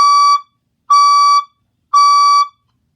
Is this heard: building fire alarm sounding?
yes